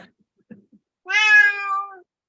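A cat gives a single clear, drawn-out meow lasting about a second, fairly close and loud, after a few faint background rustles in a quiet room.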